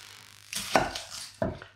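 A kitchen knife chops an onion on a board, two sharp, close thuds about a second apart over quiet background, clear and isolated with no talking.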